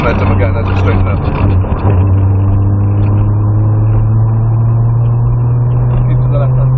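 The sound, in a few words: Nissan Skyline R32 GTR accelerating on a track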